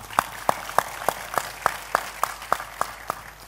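A single pair of hands claps slowly and evenly about ten times at a religious gathering marking a city's anniversary, sharp distinct claps roughly a third of a second apart over a faint background hum.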